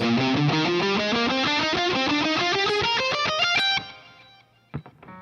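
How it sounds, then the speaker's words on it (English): Distorted electric guitar plays a harmonized walk-up riff of rising repeated note groups, loud and close, ending in a brief decay and a couple of muted plucks. "we're going to do a harmonized walk up into that solo section"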